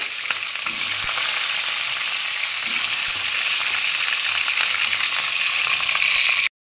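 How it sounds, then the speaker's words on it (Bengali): Cauliflower florets and potato pieces fry in hot oil tempered with whole cumin seeds, giving a loud, steady, dense sizzle with faint crackles that runs unbroken until it stops abruptly near the end. "ফুলকপি আর আলুগুলো আমি ভেজে নেব।"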